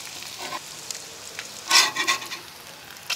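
Bacon sizzling and frying in its own grease in a pan, a soft steady crackle with a louder burst of spitting around the middle and scattered pops, heard close with no talking.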